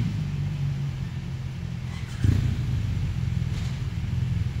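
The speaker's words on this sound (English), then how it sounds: "And stupid loud motorcycles." Loud motorcycles rumble past on a road in elk country, a steady low engine drone that jumps louder midway as one draws nearer, with no talk.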